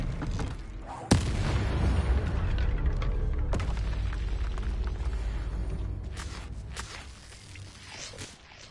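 A spell-casting battle against a troll in Hogwarts Legacy, opening with a sharp boom followed by sustained rumbling blasts and impacts, loud and dense, with further heavy thuds later in the fight.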